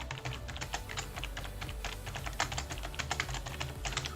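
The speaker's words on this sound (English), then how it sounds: "Sometimes it's faster if I just type these things out." Fast typing on a computer keyboard, a dense run of crisp key clicks at an uneven rhythm, close and steady throughout with no voices.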